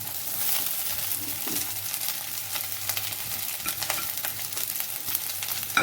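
Schezwan fried rice with no onion or garlic being stir-fried on high heat, a continuous crackling sizzle with repeated scraping taps of a spatula against the pan, close and steady.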